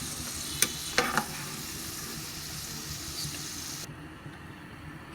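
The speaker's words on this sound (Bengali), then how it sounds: "এভাবে এই যে ফুলে উঠছে কিশমিশগুলো উঠিয়ে রেখে দেবো।" Raisins fry in ghee for semolina halwa, a soft, close sizzle with a few sharp crackles and pops early on, then the hiss cuts off near the end.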